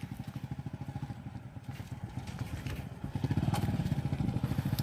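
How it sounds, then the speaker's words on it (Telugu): Motorcycles rumble across the narrow Julla suspension bridge in Odisha with a rapid, steady exhaust putter that swells louder as one draws nearer. The sound has a clattering edge and no voices are heard. "ఇటో బైక్ వస్తుంది, అటోక బైక్ వస్తుంది."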